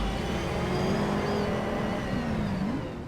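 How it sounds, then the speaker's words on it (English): An electric car motor whirs in a VR racing video game, a steady rising and falling electric whine that carries on continuously at moderate loudness without any talking. "the electric motors always sound so disappointing"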